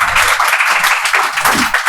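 Audience applause at a Hindi poetry recital, a dense, steady wash of many hands clapping together, loud and continuous throughout with no voices over it.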